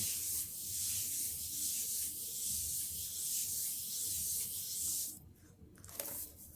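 Paper is pressed down and rubbed by hand onto an inked Gelli printing plate, giving a steady, soft, close scuffing for about five seconds. The rubbing then stops and a few quieter handling sounds follow.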